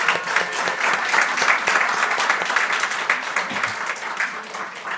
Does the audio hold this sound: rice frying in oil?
no